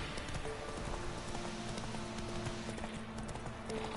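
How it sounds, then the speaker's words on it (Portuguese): A horse in the video game The Witcher 3 gallops with rapid, continuous hoofbeats over steady ambient noise, close and fairly even throughout. "O cavalo tem um vigorzão"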